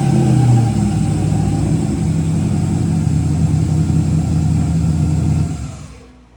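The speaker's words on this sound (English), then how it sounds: "Now we got Walzer's car coming in." A car pulls into a repair shop with a steady, loud mid-range engine drone and a slight rev near the start, fading out at the end; no one speaks.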